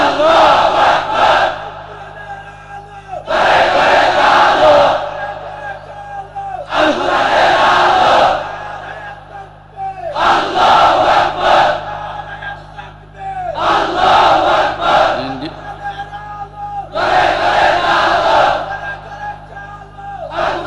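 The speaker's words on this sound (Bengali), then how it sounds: "দেন একটা তাকবীর।" A large crowd at a Bangladeshi religious-political gathering roars the takbir chant Allahu Akbar in repeated loud waves, each swelling shout lasting a couple of seconds, with short pauses between them.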